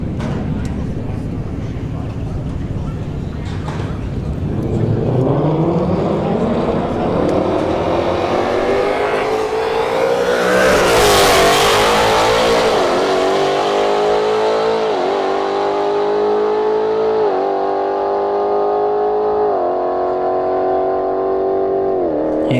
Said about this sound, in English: Kia Stinger in the right lane, S555 on the left lane